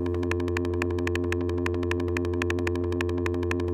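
A Buchla 261E oscillator is pulsed by a 250e function generator, producing a steady electronic tone broken into rapid, evenly spaced bright pulses, about ten per second, continuous and alone.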